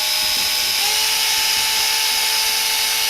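A small handheld drill with a hook in its chuck spins a wire dubbing brush loop, giving a steady high whine with a pitch step partway through, close and continuous, with no talking.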